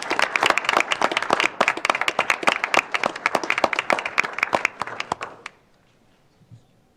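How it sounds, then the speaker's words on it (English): Applause at a Cedar Falls City Council meeting as an award is presented: a small group claps steadily and fairly close for about five seconds, then stops abruptly, leaving near silence. "Give you a round of applause."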